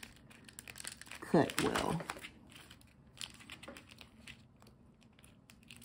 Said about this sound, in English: So we just want to push it off of the vinyl and get it down onto the transfer tape.